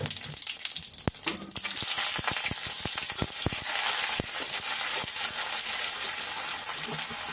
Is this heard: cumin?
yes